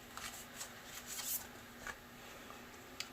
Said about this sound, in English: I find it sometimes challenging to shuffle